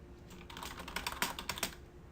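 Several quick clicks on a computer keyboard, a short run of light, close key taps spaced irregularly, quiet and with no talking.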